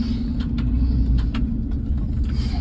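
A Honda CR-V, an RD2, being pulled out of mud by another vehicle: a steady, loud low engine rumble with faint higher scraping, continuous throughout.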